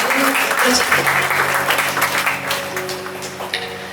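An audience at a Hindi poetry recital (kavi sammelan) breaks into strong, sustained applause, with a voice speaking over the clapping as it gradually tapers off.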